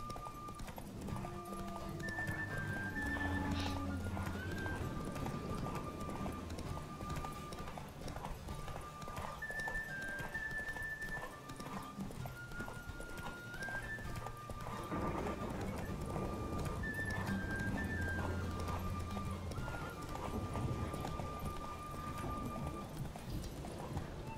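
Horse galloping in The Witcher 3, with rapid rhythmic hoofbeats running throughout under in-game music and sound effects, moderately loud and continuous.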